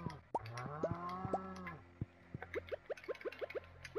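A cow moos in a long drawn-out call in the farming video game Stardew Valley, with quick springy game sound effects bouncing rhythmically afterward; nobody talks.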